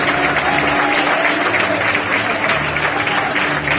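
A crowd applauds at the end of a knights' combat show at the medieval fair in Ripoll, loud, dense clapping that continues without a break.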